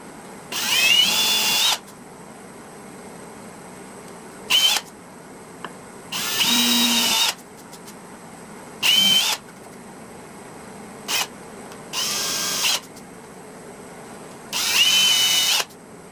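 Power drill boring into wood while building a wallet and key shelf: several short whining bursts at irregular intervals, close and loud, separated by quiet pauses.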